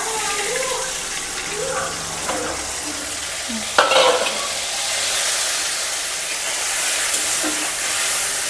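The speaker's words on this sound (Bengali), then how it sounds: "আমি তেলের ভিতরে সামান্য একটু জল দিয়ে নিচ্ছি" Water splashes into hot oil with ginger frying, setting off a burst of loud sizzling and spitting near the four-second mark over a steady background crackle, with faint stirring noises before it.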